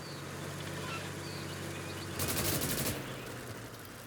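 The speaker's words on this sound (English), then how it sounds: "I'm not seeing anyone, so I don't understand where the gunfire is coming from." A short burst of rapid gunfire in the video game Call to Arms: Gates of Hell erupts partway through, distant-sounding and sharp, with quieter ambient noise before and after.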